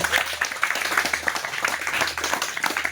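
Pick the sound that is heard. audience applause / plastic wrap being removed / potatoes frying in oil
audience applause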